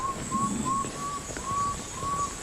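A person whistles a bird-like call to lure wolffish in Suriname, short repeated high whistled notes with gaps between them, imitating a water bird over faint outdoor background noise.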